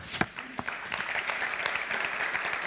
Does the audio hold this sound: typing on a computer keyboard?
no